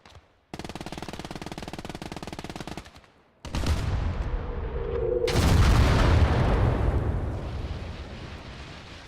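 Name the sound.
artillery explosion and gunfire in video game Gates of Hell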